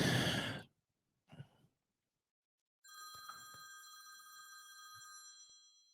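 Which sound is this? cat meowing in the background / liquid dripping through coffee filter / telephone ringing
telephone ringing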